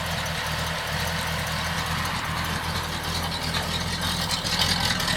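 A straight-piped V8 in a 1951 Chevrolet 3100 pickup with an automatic gearbox idles steadily at close range, a constant low rumble with the electric cooling fan running alongside and no voices.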